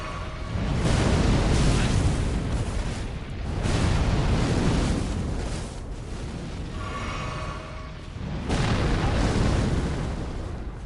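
A boss's fire attack in Elden Ring: Shadow of the Erdtree, heard as a loud, continuous roaring blaze that swells and ebbs in several waves across the whole stretch, like eruptions of flame.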